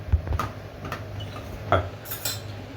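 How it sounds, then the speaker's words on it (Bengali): A metal spoon stirs nolen gur date-palm jaggery into rice payesh in a pot, giving soft scraping and a handful of distinct clinks against the pot, close and moderately loud. "এবার গুড়টা মিশিয়ে আমি তৈরি করে দেখাচ্ছি।"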